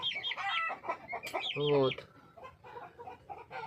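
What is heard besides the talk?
chickens clucking, including a rooster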